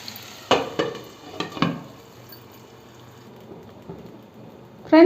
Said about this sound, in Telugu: మంచి గోల్డెన్ కలర్ ఫ్రై అవ్వాలి ఆనియన్స్.